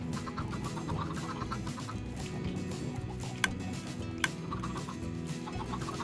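Chickens in a Minecraft automatic chicken farm give soft, repeated game clucks against a low background hum, with two sharp clicks partway through.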